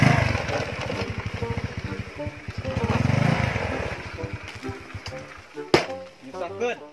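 A motorcycle engine running out of petrol, chugging in rough uneven pulses that weaken and sputter out, followed by brief voices near the end.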